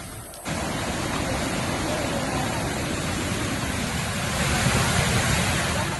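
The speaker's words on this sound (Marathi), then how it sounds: "नदीपात्रामध्ये मोठ्या प्रमाणात पाणी येत आहे आणि पाण्याचा प्रवाह सातत्याने वाढत असल्याचंही दिसतंय।" The flooded Savitri river rushes past in a loud, continuous roar of churning water, swelling slightly toward the end.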